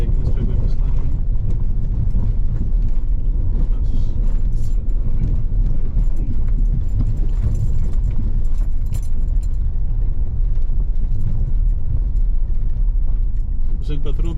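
An off-road vehicle grinds up a steep, rocky slope in Wadi Shaam, Ras Al Khaimah, with loud, steady low engine rumble, scrabbling tyres and rattling stones, plus a voice talking over it.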